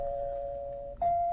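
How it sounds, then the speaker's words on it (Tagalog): A single electronic doorbell chime sounds in a home, a clear sustained tone that breaks briefly and then rings again, close and fairly loud. "Naay nag-doorbell riming."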